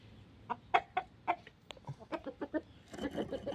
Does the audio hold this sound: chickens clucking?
yes